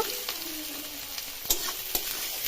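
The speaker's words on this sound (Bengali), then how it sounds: "পেঁয়াজটা এবার আমি লাল লাল করে ভেজে নেব" Chopped onion and green chili fry in hot oil, a steady close sizzle with a few sharp clicks and scrapes from stirring, with no voices.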